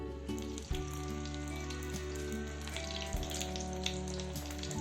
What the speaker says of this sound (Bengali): আমি একদম মিডিয়াম আঁচে ভাজছি